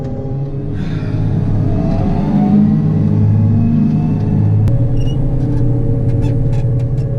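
Corn-header combine harvester driving across a field during a grain maize harvest, its engine a steady loud low rumble with a continuous drone and no talking.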